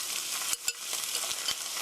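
Onions frying in a pan with tomato sauce added, giving a steady bright sizzle with a few soft stirring scrapes close by.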